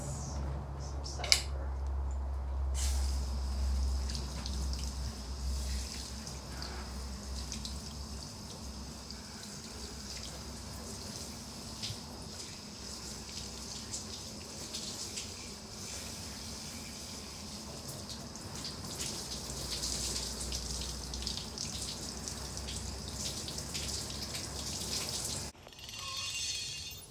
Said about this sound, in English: I'm just going to wash this off with some soap